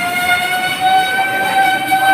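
A Bhutan-bound train arrives at a station, its horn or siren-like tone sounding as a loud sustained steady note, close and continuous, with no talk.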